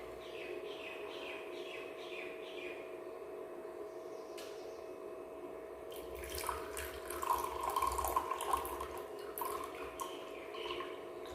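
Water pours steadily from a tap into a container while being weighed out for a homemade facial mist, a constant faint trickle that swells into louder splashing near the end, with light chirps in the background.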